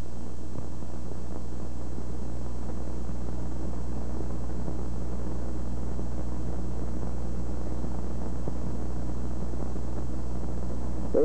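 A propeller airplane's engine drones steadily and loudly throughout a takeoff and departure stall, heard from the pilot's point of view in an FAA training film, with no voices over it.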